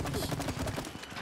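A rapid burst of video-game gunfire from It Takes Two rattles continuously, dense and close, in a short loud stretch.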